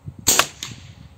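One close, crisp report from an air rifle with a Fiora 600mm barrel shooting a Slug Monster slug, a sudden snap with a brief echo over quiet background.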